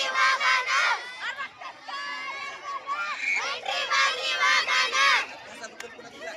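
At a school kabaddi final between two classes, a crowd of students cheers and shouts continuously, with excited children's voices rising and falling in loud, dense bursts close by.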